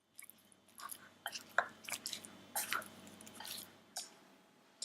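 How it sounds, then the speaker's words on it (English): Shrimp being mixed by hand with salt, pepper, thin-sliced ginger and cornstarch, giving soft wet squishing and sticky clicks in short irregular bursts, close and fairly quiet, with no talking. "Mix everything together"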